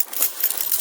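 A bunch of keys jingles in a hand, a bright continuous metallic rattling and chinking, close and fairly loud, with no talking.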